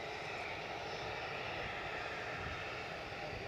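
A business jet at Edinburgh Airport produces a steady, distant engine roar that holds level throughout, with broad hiss and no voices.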